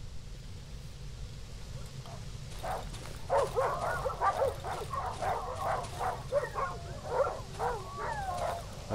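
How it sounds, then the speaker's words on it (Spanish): In the survival horror game Darkwood, dogs bark and yip in rapid, overlapping bursts at moderate distance. The barking builds after a few quiet seconds over a low, dark ambient drone. "Perros."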